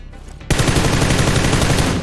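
Rapid automatic gunfire from the video game PUBG Lite bursts in loudly after a brief quiet moment and continues as a dense, sustained volley.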